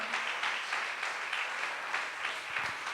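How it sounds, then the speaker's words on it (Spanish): A church congregation applauds for the Lord during a service, steady moderate clapping with a rhythmic, pulsing quality and a faint voice near the end. "Denle un aplauso fuerte al Señor."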